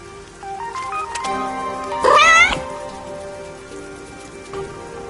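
Cat in the rain from the video game Raincode, one drawn-out rising meow standing out clearly over steady rainfall and soft musical tones, with no speech.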